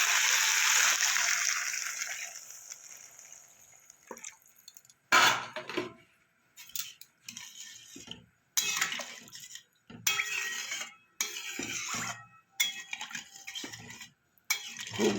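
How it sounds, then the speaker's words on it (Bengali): Water is poured into a pot of spiced potato curry with flat beans for a Bengali fish curry, producing a sustained splashing fill followed by intermittent pouring bursts and drips. "এবার আমি দিয়ে দেবো জল"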